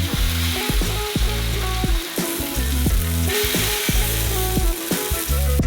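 Ham sizzles and fries on an electric grill turned up to maximum and coated with oil, a dense continuous crackle with occasional scraping and clicking of utensils, loud and close with no voices.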